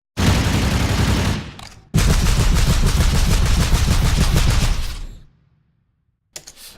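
The heavy assault rifle from the game Doom, with redesigned sound, fires in two long, dense bursts of rapid, punchy automatic shots, each ending in a short metallic tail, followed by a brief silence.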